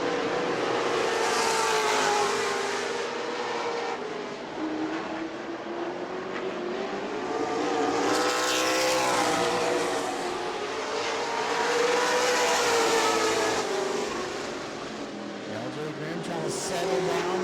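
Race cars roar past at New Smyrna Speedway during a battle for third, engines droning steadily with rising and falling passes, under a race announcer's commentary.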